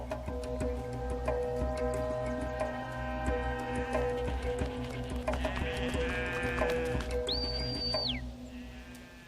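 A goat herder's flock moves through desert country, with repeated bleats and calls rising over a steady outdoor background, fairly close; a high whistle-like tone sounds near the end.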